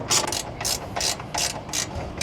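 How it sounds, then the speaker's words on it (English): Ratcheting wrench loosening the side bolts on an air-conditioning unit's motor mount, a series of about seven quick, close pawl clicks in a steady rhythm, each burst bright and rasping, with no talking. "we're gonna loosen these side bolts here"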